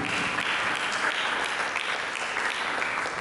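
A church congregation claps together in sustained, dense applause during a Sunday worship service, steady and fairly loud throughout with no voices standing out.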